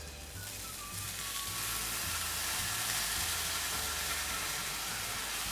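Slices of sauce-soaked Spam sizzle and fry in a hot pan, a steady broadband hiss with soft crackle building slightly after the first second and holding close and continuous, with no talking.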